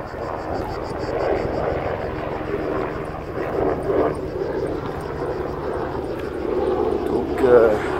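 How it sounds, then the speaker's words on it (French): A helicopter drones steadily overhead, a continuous rotor and engine rumble lasting the whole stretch while someone talks over it outdoors. "un hélicoptère, là je suis repéré."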